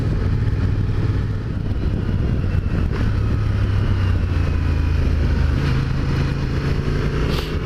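A Honda Transalp motorcycle engine drones steadily while riding, a close, loud, continuous hum with a shifting low pitch and wind noise, with no voices.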